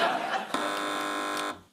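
A quiz show buzzer sounds on a panel show: one loud, steady electronic tone held for about a second, then cut off, right after a short burst of noise at the start.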